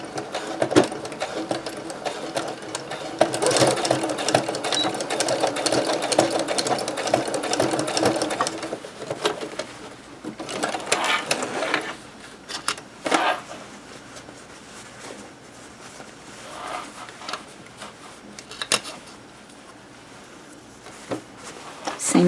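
A sewing machine stitches through thick tote bag fabric, running in a loud, steady whirring stretch that slows and breaks into shorter, uneven bursts with pauses toward the end.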